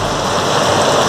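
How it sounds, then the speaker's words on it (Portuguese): Heavy rain pours over São Paulo during a thunderstorm, a dense, steady roaring hiss with no break and no distinct thunder clap. "Relampejando muito, muita chuva nesse momento"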